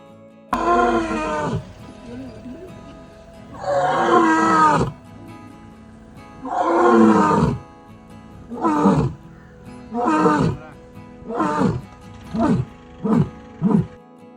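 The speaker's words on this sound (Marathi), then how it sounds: "ऐकलं का सिंहाची डरकाळी" A lion roars in the Gir forest on a Devaliya safari, letting out a series of deep, powerful calls: long drawn roars first, then shorter grunting bursts that come faster toward the end, carrying clearly through the quiet jungle.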